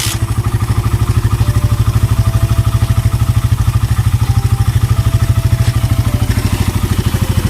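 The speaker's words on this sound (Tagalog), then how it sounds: "pinapaandar ko muna siya para mag-circulate yung oil sa makina" A motorcycle engine idles steadily nearby during an oil change, warming to circulate oil, a loud, even low thumping pulse that holds without change throughout.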